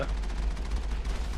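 Cannon fire on Virmire in the Mass Effect video game: a dense, continuous roar of heavy gunfire rumbling without pause, loud and close, with a low boom underneath throughout.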